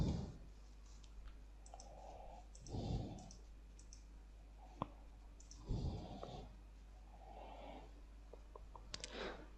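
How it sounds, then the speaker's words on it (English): Soft computer keyboard typing and a few sharp mouse clicks, faint and close, in bursts with pauses between. "I'll enter my address and then click on next."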